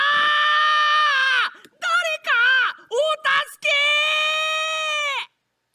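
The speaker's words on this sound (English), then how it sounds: "a pitiful scream tore through the sky to answer me" Pitiful scream in a visual novel video game, a loud, shrill wailing cry broken into several wavering bursts, close and alone, ending abruptly.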